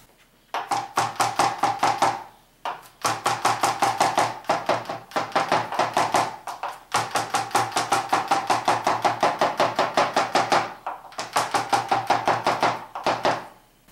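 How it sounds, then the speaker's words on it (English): A knife chops rapidly on a cutting board, mincing a garlic clove in quick, even bursts of taps separated by short pauses. "Go ahead and trim that. And then you just mince that up real nice."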